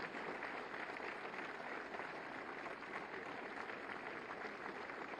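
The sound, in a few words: applause at appointment letter ceremony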